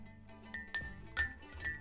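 A spoon clinks against a glass while Irish butter is stirred around in it: three or four light, bright chinks spaced apart, close and fairly quiet, with no talking.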